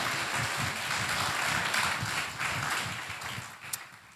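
A church congregation gives a morning round of applause for the preacher, a broad, continuous wash of many hands clapping at fairly even loudness that eases off slightly toward the end.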